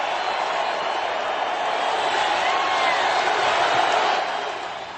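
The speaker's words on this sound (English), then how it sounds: "Listen to the crowd." Packed stadium crowd roaring and cheering in a dense, continuous wash of voices that swells and then eases off slightly at the end.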